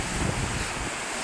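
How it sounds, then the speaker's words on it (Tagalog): Large waves whipped up by Typhoon Opong crash and churn in a continuous roar, with heavy wind buffeting the microphone and no voices over the surf. "tingnan mo yun, lalaki ng alon o"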